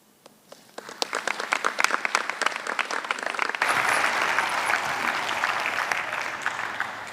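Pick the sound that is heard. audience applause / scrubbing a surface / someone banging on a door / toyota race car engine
audience applause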